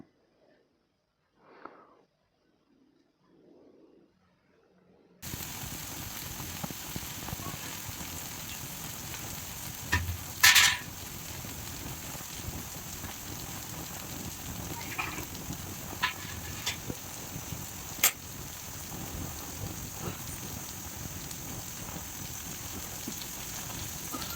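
Masala spices frying in oil for a cauliflower stem curry: after a few quiet seconds with faint kitchen noises, a steady, close crackling sizzle starts and continues throughout, with a few sharper pops and spits.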